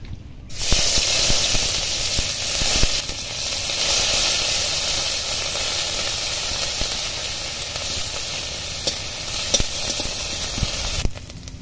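Grated onion sizzling as it hits hot oil in a wok, a steady, close hiss of frying that runs loud and unbroken for the whole stretch, with no talk over it.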